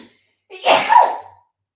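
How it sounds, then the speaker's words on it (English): A single loud sneeze with a sharp intake of breath, close and isolated, followed by silence. "I'm going to sneeze, by the way."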